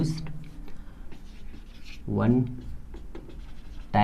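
Chalk scratches and taps on a board during a physics class on cells and electromotive force, in short intermittent strokes beneath a teacher speaking Hindi.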